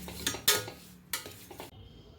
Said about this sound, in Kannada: ಇವಾಗ ಇದನ್ನು ನೀಟಾಗಿ ಎಲ್ಲ ಮಿಕ್ಸ್ ಮಾಡ್ತೀನಿ